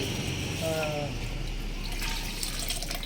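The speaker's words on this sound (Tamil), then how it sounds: "தண்ணி ஊற்றி விடுங்க" Water pours steadily into a biryani cooking pot with a trickling, splashing wash that runs the whole time, with some faint background voices.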